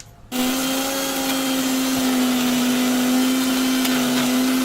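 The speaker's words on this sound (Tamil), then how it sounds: "இப்போ இதை அரைச்சிடலாம்" A mixer grinder grinding masala for prawn kurma starts up suddenly and runs with a loud, steady electric whine, close by and uninterrupted.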